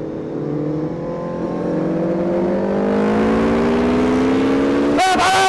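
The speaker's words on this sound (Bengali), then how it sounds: "এই মোটা আমার হায়াবুসা চালাচ্ছে" A Suzuki Hayabusa 1300 motorcycle rides past on the road, its engine whine climbing steadily in pitch and growing louder, ending in a sharp loud burst as it sweeps close by.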